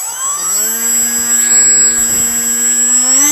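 Skywalker Falcon RC plane motors spool up close by in a loud, steady harmonic whine that climbs slightly in pitch and holds without any talk.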